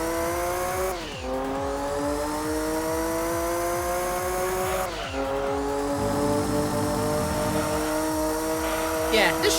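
Race car in the Gran Turismo 2 video game, on a Grand Valley endurance run: a loud engine revs up in rising pitch sweeps, dropping at two gear shifts, with tire squeal near the end and someone talking over it.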